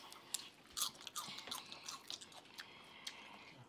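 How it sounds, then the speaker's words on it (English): Someone eats a celery stick during a Wing Stop mukbang, giving close, crisp crunching bites followed by wet chewing and squishing in a quiet room, with no talk. "I'm about to eat this last celery stick"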